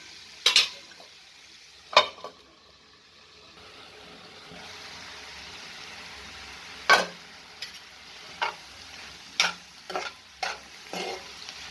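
Spring onion curry with turmeric is stirred in a pan over a low, even sizzle, with sharp metallic clinks and scrapes of the utensil spaced irregularly, a few loud near strikes standing out, no one speaking.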